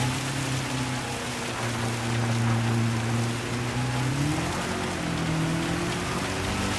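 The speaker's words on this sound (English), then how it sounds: "it's really raining" Steady hiss of rain spray runs throughout beneath a droning race car engine whose pitch slowly shifts, in Gran Turismo 7 at Fuji in full wet conditions.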